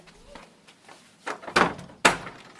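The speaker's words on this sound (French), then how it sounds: "Je vais ouvrir la porte." Someone opens a door in a home as evening guests arrive, giving a soft shuffle followed by two sharp, close wooden thuds of the door moving and knocking, with no talk over it.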